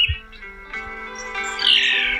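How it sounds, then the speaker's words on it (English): A phainopepla (Phainopepla nitens) gives short chirps and a harsher, rising squawky call near the end, fairly close and clear over a faint tonal background. "It's Phainopepla nitens, today's Talking Birds featured feathered friend, the phainopepla."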